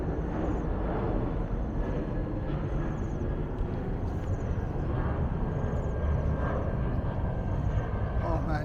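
A Bangkok Airways airplane on Koh Samui, Thailand, gives a loud, steady roar that fills the whole stretch, mixed with wind noise and faint voices.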